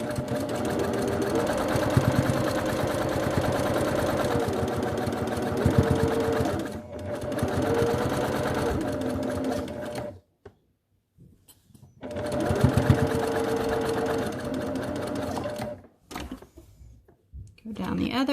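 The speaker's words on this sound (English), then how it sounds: "And then when you top stitch, you're going to stay close to the edges of your mask." A sewing machine top stitches close to the edges of a children's fitted mask with a filter pocket, whirring steadily in two long runs split by brief pauses, with a voice talking over it.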